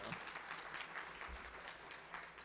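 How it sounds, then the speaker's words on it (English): A graduation audience at a 2021 food and beverage school ceremony gives a round of applause, a continuous, even roar of many clapping hands, fairly distant and soft in level. "let's give everyone a big round of applause just for being here today"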